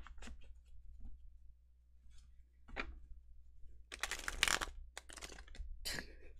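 A tarot card deck being shuffled, giving quick papery riffles and crackly bursts in several short clusters, the densest near the middle, close and fairly quiet.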